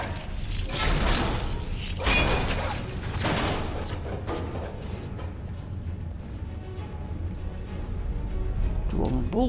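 Dwarven sphere automaton machinery in Skyrim, with clanking metallic mechanical impacts and whirring, grinding sounds in several loud bursts early on that fade to a quieter mechanical hum.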